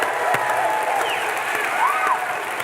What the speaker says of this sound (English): let's hear it for Lloyd Bridges